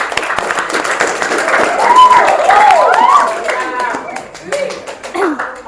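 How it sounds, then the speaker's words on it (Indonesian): Students in a classroom clap for top-scoring classmates, a short burst of scattered applause with some laughter, mixed with voices talking over it. "Beri tepuk tangan untuk Zainuri dan Tamara."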